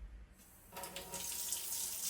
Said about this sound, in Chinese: 打开水龙头